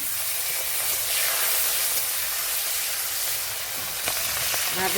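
Whole cumin seeds, crushed garlic and chili tempering in hot oil in a pan for a taro-leaf and hilsa-head dish. The sizzle is a steady, moderately quiet hiss that runs unbroken, with no talking.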